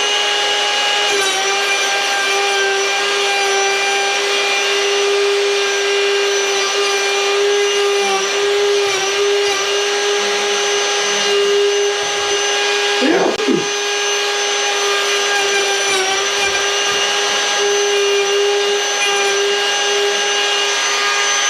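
Wood router cutting into a board for board-and-batten trim, a steady high motor whine with harmonic tones running throughout, a brief louder bite near the middle, close and continuous with no talk.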